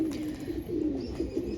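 Pigeons of a bred pair, a Kamaggar Laal Zeera, coo in a low, soft, continuous burbling close by, with no talking over it.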